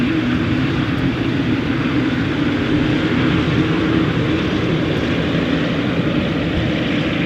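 A Middle Eastern airline's airliner arriving at Edinburgh Airport on a foggy day, heard as a steady, loud, broadband engine roar that holds evenly throughout with no voices.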